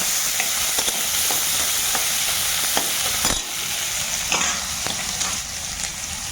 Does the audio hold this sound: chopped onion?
yes